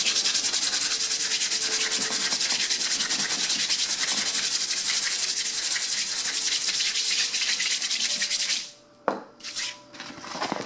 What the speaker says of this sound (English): I will go over top my screen with this Brillo, this scrubber.